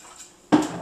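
Water splashes into a wine glass being rinsed, a sudden wet rush after a quiet moment, close and fairly loud.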